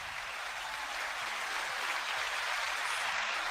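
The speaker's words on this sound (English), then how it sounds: "9-second applause" Steady applause, soft and somewhat distant, a continuous wash of clapping that holds at an even level.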